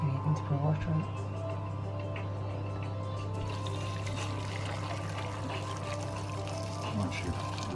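Water is poured onto the base of an indoor Christmas tree, a steady splashing trickle over a constant low hum, with people talking nearby.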